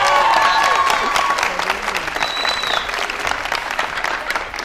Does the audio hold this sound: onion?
no